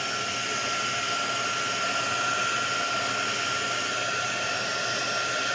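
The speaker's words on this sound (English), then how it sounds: "Might hit them one more time with the heat gun" A heat gun blows over resin poured into molds, giving a loud, steady, unbroken airy roar that holds at an even level throughout.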